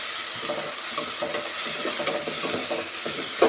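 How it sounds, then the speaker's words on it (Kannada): Masala with turmeric and garam masala fries in oil for a green gram gravy, a steady close sizzle with soft stirring scrapes throughout and no talk. "ಆಯಿಲೆಲ್ಲ ಈ ಥರ ಚೆನ್ನಾಗಿ ಫ್ರೈ ಮಾಡ್ಕೊಂಬಿಟ್ರೆ ಹಸಿ ಸ್ಮೆಲ್ಲು ಏನೂ ಇರಲ್ಲ"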